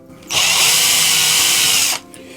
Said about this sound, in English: I'm going to drill a series of holes along this pipe